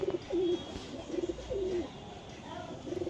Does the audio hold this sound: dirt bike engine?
no